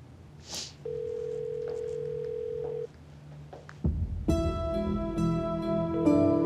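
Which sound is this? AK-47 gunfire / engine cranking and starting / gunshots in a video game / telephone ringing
telephone ringing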